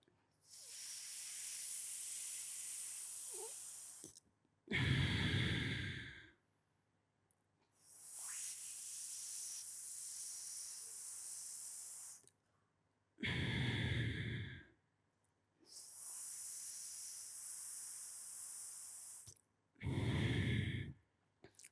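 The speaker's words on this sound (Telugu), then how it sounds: "ముక్కు ద్వారా శ్వాసం వదలాలి, అంతే." Sheetali pranayama breathing, with long airy hisses of breath drawn in alternating with shorter, stronger breaths pushed out through the nose, repeated in a slow cycle of three rounds with short silences between.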